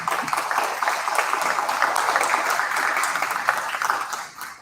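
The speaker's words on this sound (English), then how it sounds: "So please join me with a warm round of applause for Enrique." A roomful of people applauding at a city attorney candidate forum, a steady, dense wash of clapping that holds evenly and then fades out at the end.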